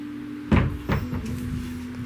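A cabinet door in an Airbnb bedroom opens with two sharp knocks and a brief rattle over a steady background hum.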